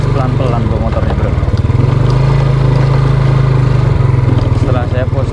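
Motorcycle with an overly hard rear tyre ridden slowly on a fishing outing, its steady low engine drone running loud and continuous throughout, with a voice speaking over it.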